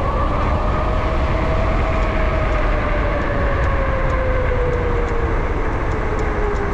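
An 8000W DIY e-bike with a QS 273 3.5T hub motor hums loudly and steadily while riding, its motor whine sliding slowly downward in pitch over strong wind rush.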